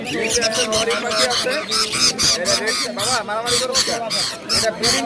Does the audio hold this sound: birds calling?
yes